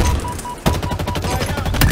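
Sniper-rifle fire in a video game, a loud close burst followed by rapid repeated cracks and booms that pile up into a dense volley.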